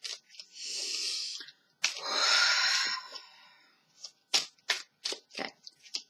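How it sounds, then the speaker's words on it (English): Tarot cards shuffled by hand without a ripple shuffle: two longer soft riffling rubs followed by a quick run of short, crisp card slaps, close and quiet, with no talking. "And you notice how I shuffle? It's always like this."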